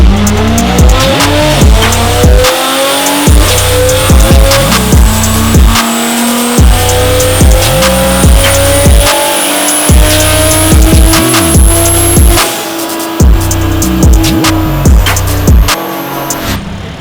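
A 1300-horsepower BMW M3 roars through a hard power run, engine pitch sweeping up repeatedly through quick gear changes, loud and close with tire squeal threads, no talk over it.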